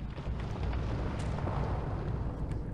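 A volcanic eruption explosion in the video game Lands of Lore III: a dense, continuous roaring rumble with heavy low-end boom that stays loud and steady throughout, with no voices.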